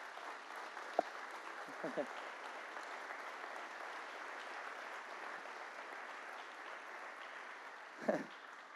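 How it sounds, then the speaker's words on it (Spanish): A church congregation applauds during a sermon, the clapping a faint, steady distant wash, broken by a few brief louder voice sounds near the start and end. "Dale un fuerte aplauso a Jesús."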